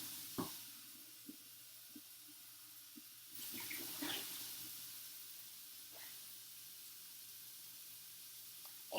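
Tap water runs softly as cleaned baby bottles are rinsed in a sink, a quiet steady trickle with a few light knocks and clinks of plastic, no voices.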